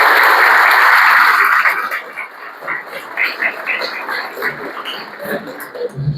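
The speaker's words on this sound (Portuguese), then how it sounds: "uma salva de palmas para o nosso querido Alberto" An audience claps for a speaker at a talk, loud dense applause at first that thins into scattered claps and then dies away.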